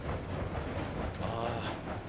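A train car rolling along the track in the video game Railroads Online: continuous low rumbling rail noise with a faint clatter, steady and fairly close, running throughout.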